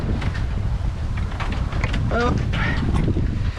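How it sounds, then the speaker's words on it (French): Wind blowing across the microphone while sailing a boat at about six knots in nine to ten knots of wind, a steady loud rush throughout with a brief spoken word over it. "Il y a un bon petit vent."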